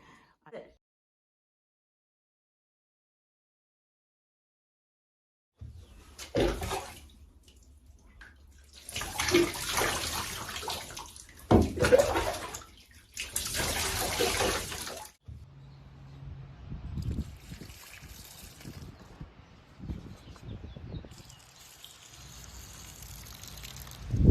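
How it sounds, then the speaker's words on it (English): Tap water running and being caught in a container instead of going down the drain: after a few seconds of silence, bursts of rushing, splashing flow start and stop several times, close and fairly loud. "I catch the water instead of letting it just go down the drain."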